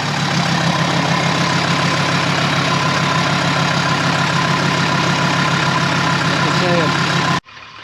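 An engine runs loud and steady close by with a constant rumbling drone, then cuts off abruptly just before the end.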